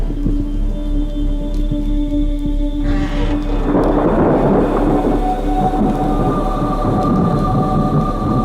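A thunderstorm at night: low rolling thunder over steady broadband rain-like noise, swelling into a loud rumble around the middle and sustained to the end, with no voices.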